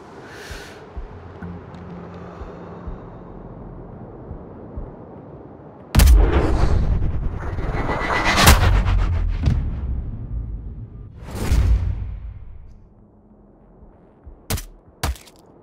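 Gunfire in the video game Sniper Ghost Warrior Contracts: after quiet ambience, a sudden loud shot with a booming, rumbling tail, then a second heavy blast, followed by two short sharp cracks near the end.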